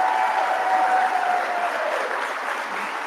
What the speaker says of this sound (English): I applaud Teresa, and I know we all do